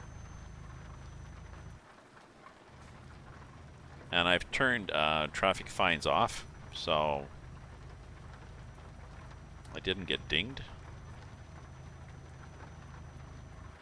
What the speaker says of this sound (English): I forgot it's raining.